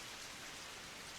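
Steady, dense rain falls evenly and softly on a surface, a continuous hiss with no voices.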